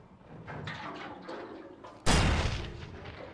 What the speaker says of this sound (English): Shoot and kaboom!